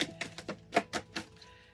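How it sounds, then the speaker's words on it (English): Deck of cards being shuffled by hand during a card reading, a quick series of crisp riffling bursts, about eight soft slaps and flutters in under two seconds, close and fairly quiet with no talking. "thank you for your patience while I shuffle"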